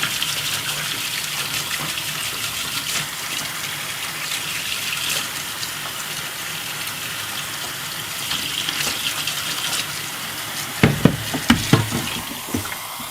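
Hot water pours and gushes steadily into a Pinter home-brewing vessel in a continuous wash, with a few louder knocks and clinks toward the end.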